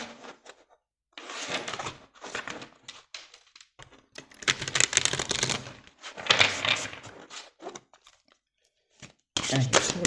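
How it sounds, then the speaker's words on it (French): Oracle cards are shuffled and drawn, heard as close bursts of rapid papery riffling and flicking separated by short silent pauses. "on va prendre une carte de manifestation."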